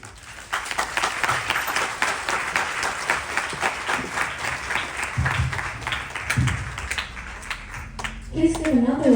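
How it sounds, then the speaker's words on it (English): Audience applause at a Ganesh Chaturthi Utsav discourse event, dense steady clapping from a crowd for several seconds, with voices murmuring and a brief tonal sound near the end. "Please give another round of applause to our Honorable Vyaas ji"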